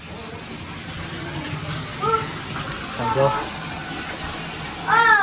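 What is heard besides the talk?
bathtub filling with water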